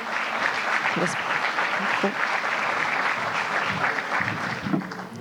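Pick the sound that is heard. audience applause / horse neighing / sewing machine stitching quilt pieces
audience applause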